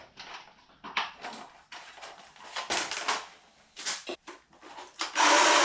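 A cheap Chinese cordless hedge trimmer, running slowly on a weak battery, whirs in uneven, sluggish bursts, stopping and starting repeatedly, close by, ending in a louder steady buzz.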